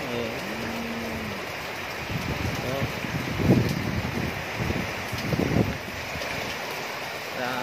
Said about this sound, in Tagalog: Grabe ang lakas ng ulan, saka hangin.